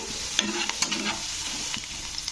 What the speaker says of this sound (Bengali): এইভাবে কিন্তু পেঁয়াজটা নাড়তে নাড়তে লাল করে ভেজে নিতে হবে